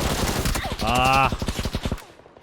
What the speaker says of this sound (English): Terrible shooting on my first attempt there